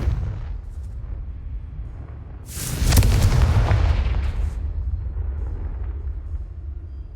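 Confringo blasting spell in a Harry Potter video game sets off one loud, close explosion with a sharp burst and a deep booming rumble that fades slowly over a low ambient background.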